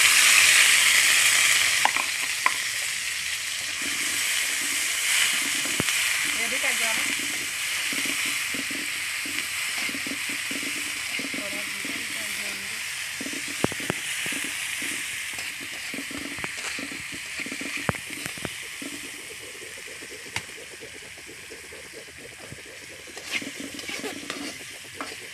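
Chopped onions sizzle and fry in hot oil in a wok, a steady close hiss with scraping stirs throughout and no talk.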